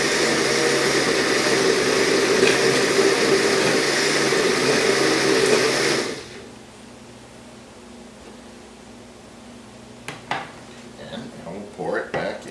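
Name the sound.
blender blending soup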